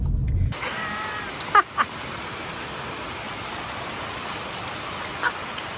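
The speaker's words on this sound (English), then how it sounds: "It's pissing down with rain." Heavy rain pours steadily over an outdoor side-saddle horse show, a dense, even hiss that runs unbroken throughout, with a couple of brief knocks near the start and a faint tap near the end.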